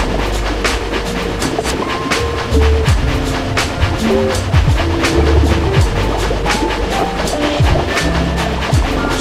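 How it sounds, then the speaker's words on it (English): A train rolls steadily along the tracks through a tunnel with rhythmic clacking and rumbling, a continuous loud mechanical roar with occasional metallic squeals. "Spirit Train begins moving towards the temple, traveling along the tunnel to bring himself and Chris closer to the imp"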